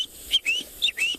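A voice imitates the high-pitched whistling tweet of a spur-winged goose, two pairs of thin rising whistles in quick succession, close and soft.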